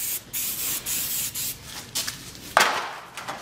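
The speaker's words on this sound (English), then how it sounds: "just spray the mold down" Release spray is misted onto concrete paver molds in short, close hissing bursts, with brief pauses between passes and one louder spurt near the end.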